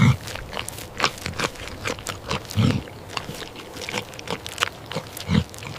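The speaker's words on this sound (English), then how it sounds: "Wild boars are incredibly destructive, especially when they find a reliable food source like this bait pile." Wild boars feed at a bait pile, crunching and chewing with irregular bites and occasional low grunts, close by and moderately loud.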